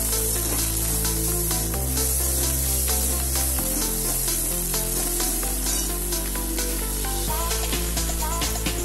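Curry leaves frying in a pan, a dense continuous sizzle with quick rubbing stir strokes on top, close and loud over a steady low hum.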